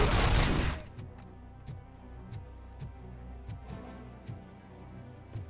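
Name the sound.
gunfire in video game Robocop Rogue City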